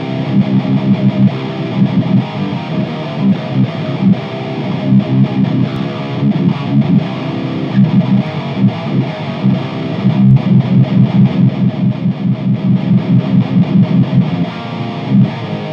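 Heavily distorted electric guitar riffing through a Mooer amp modeler into a real amp cabinet, loud and continuous with rhythmic chugging strums throughout.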